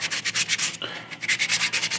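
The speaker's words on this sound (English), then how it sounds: "spending a couple minutes, probably 10 minutes, 15 minutes sanding over this layer of primer" Steady back-and-forth sanding over a layer of primer on a quarter-scale Spider-Man sculpture, close and rhythmic with regular scraping strokes and a brief pause partway through.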